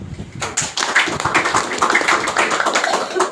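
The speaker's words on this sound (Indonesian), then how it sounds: "Coba tepuk tangan dulu." An audience claps together in a dense, scattered burst of hand claps that starts abruptly and keeps going steadily at close range until the end.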